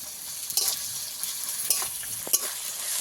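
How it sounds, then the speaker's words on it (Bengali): Onion and garlic paste fry together in hot oil with a steady soft sizzle, broken by a few brief scraping stirs of a spatula, close and fairly quiet. "এবার রসুন বাটাটা দিয়ে দেব পেঁয়াজ আর রসুন একসঙ্গে ভালো করে ভেজে নেব"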